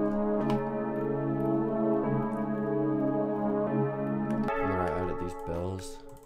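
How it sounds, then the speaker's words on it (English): A dark, evil-style plugg beat layered with a Nexus choir pad, sustained sung chords held steady over the loop before shifting to new chords near the end, with no talking. "And then I added a choir from Nexus."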